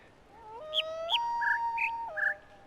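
A bird call from the video game The Witness: clear whistled notes that jump between pitches in a short, lilting phrase, heard alone against a quiet backdrop.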